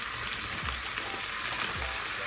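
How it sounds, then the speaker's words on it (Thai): Squid stews in tomato soup in a frying pan, giving a steady close sizzle and bubbling hiss with a couple of soft low knocks, with no talking. "เราใช้กระทะในการตุ๋นค่ะ"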